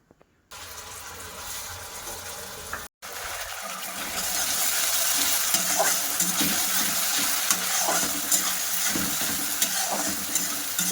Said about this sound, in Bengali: তো হালকা লাল লাল করে ভাজা করে নেব, যতক্ষণ আদা কাঁচা লঙ্কার কাঁচা গন্ধটা না চলে যায় ততক্ষণ কষিয়ে নেব।